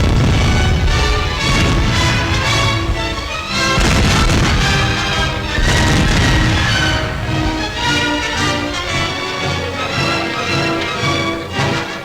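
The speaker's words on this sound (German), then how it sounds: "Zur gleichen Zeit werden in dem freigemachten Gelände die kriegswichtigen Einrichtungen gesprengt." Demolition blasts of military installations in 1943 German wartime newsreel footage, a dense, loud, continuous roar of booming explosions and crashing debris with no pauses and no speech.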